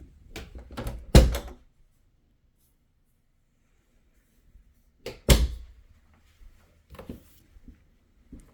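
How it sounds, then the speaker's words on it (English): Double closet doors in a small bedroom of a house are handled: a couple of wooden thunks and knocks, a pause, then another pair of thuds and lighter rattles, close and clear with no speech. "And then the double door closet."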